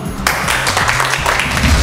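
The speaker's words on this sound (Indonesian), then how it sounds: "Oke, tepuk tangan dulu." A crowd at a church youth competition breaks into loud, dense applause that starts abruptly and carries on steadily, filling the room up close.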